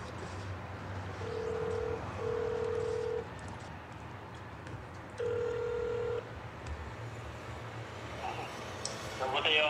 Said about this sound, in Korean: 이건 전화 때리도록 하겠습니다.